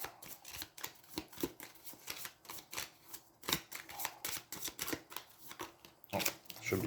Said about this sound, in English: Oh, should be shuffling on camera,